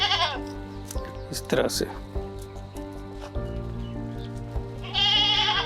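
Goats bleat repeatedly inside a goat shed on a farm, with loud, close calls at the start and end over steady background noise while someone talks throughout.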